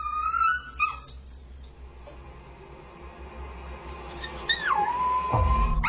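A puppy howls from inside its cage, a rising then falling wavering cry that swells near the end over a low, steady background hum.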